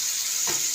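Ginger, cumin and chili pastes fry with tomato in a hot pan, giving a short, close sizzle under a steady hiss.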